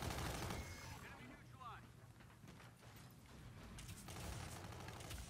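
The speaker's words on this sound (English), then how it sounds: "Let's reload our gun here." Quiet mechanical clicks and clatter of a gun being reloaded in Call of Duty, faint and under a low background hum, with a voice talking.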